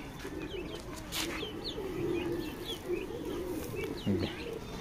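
Pigeons coo repeatedly on a rooftop as grain is scattered for them, soft throaty calls repeating under outdoor ambience with other birds chirping faintly in the background.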